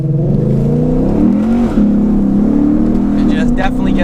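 A Lexus IS F engine revving hard under acceleration, a loud continuous roar that climbs and shifts pitch near the car, with a dip around the middle before pulling again.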